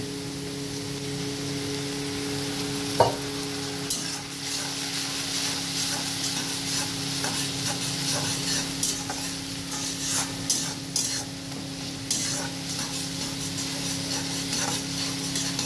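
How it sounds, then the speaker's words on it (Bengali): Egg curry masala fries in a pan while it is stirred. A constant close sizzle and hiss carries repeated spatula scrapes and knocks against the pan, with a low steady hum underneath. "এইভাবে ভালো করে নাড়াতে হবে, আর পারলে একটু জল দেবেন।"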